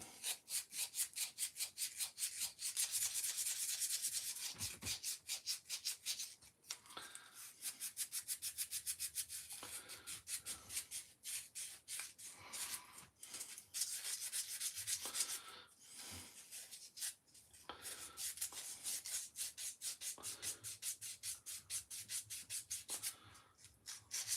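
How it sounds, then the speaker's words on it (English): Sandpaper rubs across carved wood in quick, steady back-and-forth strokes, a close, dry scratching that runs on with a few short pauses. "Let's just get a little bit of sandpaper actually"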